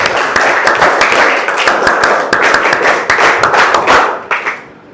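Students in a classroom burst into loud group clapping with rapid overlapping claps, sustained as a dense burst for several seconds before tapering off near the end.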